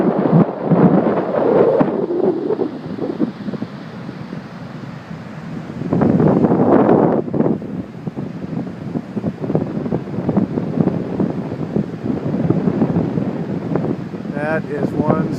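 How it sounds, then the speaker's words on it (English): Gusty wind from an approaching ocean storm buffets a beach, roaring steadily into the microphone in loud surges, with a voice talking over it at times. "That is one storm coming."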